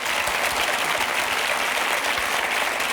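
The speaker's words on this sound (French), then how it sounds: "on l'applaudit." Studio audience applause for a TV presenter on a French television show, dense, even clapping held at a constant loud level throughout with no speech.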